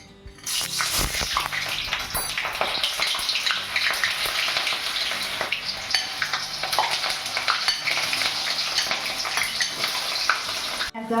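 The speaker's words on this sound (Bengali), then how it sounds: "পেঁয়াজটা একটু আরেকটু ভাজা করে নেবো, বেশি না, অল্প একটু নাড়াচাড়া করে" Onions frying in hot rice bran oil for chilli chicken, a steady loud sizzle with crackling bursts and occasional stirring scrapes, running continuously without talk.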